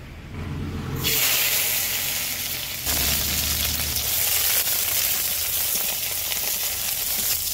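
Tomatoes frying in hot oil in a wok, giving a loud, steady sizzle that bursts up strongly as they go in and carries on without a break.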